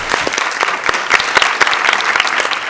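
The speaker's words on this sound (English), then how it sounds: "Big round of applause." An audience at a city council meeting applauds an award recipient, the clapping close and loud with distinct individual hand claps in a lively, uneven burst that fills the moment.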